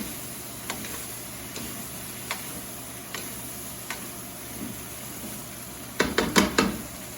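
Bok choy and mushrooms in a stir-fry pan are stirred with soft, evenly spaced taps over a faint sizzle, ending in a quick burst of louder scrapes and clinks.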